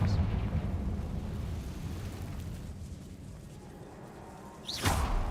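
A Confringo fire-blast spell goes off in Hogwarts Legacy, a rumbling roar that fades and then a sharp whooshing burst near the end, fairly loud, with faint voice-like sound underneath.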